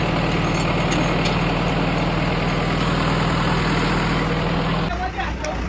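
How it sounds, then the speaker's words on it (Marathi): A vehicle's engine idles close by in a loud, steady, low throbbing hum that shifts slightly near the end, with people talking over it. "गाडी आली गाडी आली गाडी आली"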